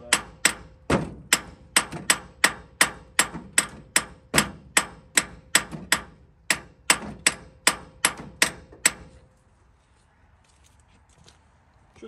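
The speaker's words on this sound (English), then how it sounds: "Find our handy dandy hammer here. We're gonna tap on the case" A hammer taps about twenty times in a steady rhythm on the starter case of a 1935 International C-30 truck, sharp metallic knocks up close, then the tapping stops and it goes quiet.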